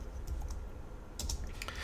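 Typing on a computer keyboard produces a close burst of quick key clicks, a short pause, then a second cluster of taps, with no talk.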